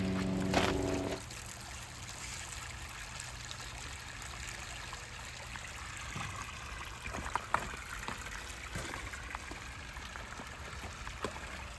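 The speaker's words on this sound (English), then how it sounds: "Turn on the waterfall." Water from a homemade waterfall pours and trickles steadily after a brief thump at the start, as a continuous moderate splashing flow with no talk.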